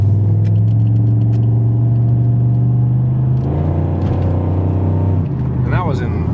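2007 Pontiac GXP accelerating in third gear without downshifting, a steady close engine drone rising in pitch over several seconds, then shifting character near the end as a voice speaks over it.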